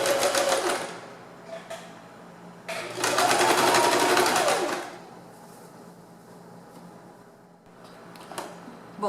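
A sewing machine stitches a rounded fabric cap with a binding strip, running in two bursts with a short pause, then a brief final run after a stretch of quiet; close and moderately loud, with no talking.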